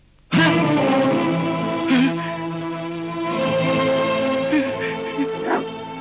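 Two black dogs in a drama sound effect whimper and whine almost continuously in high, wavering tones, with sharp yips and short barks breaking in every second or so, loud and close.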